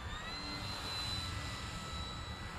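An E-flite Timber Turbo RC plane flying overhead, a steady unbroken whine with a rushing drone that holds at even loudness throughout, no voices.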